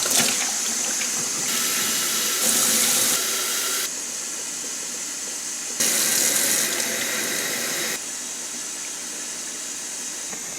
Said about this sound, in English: I'm going to drain and rinse all of my seeds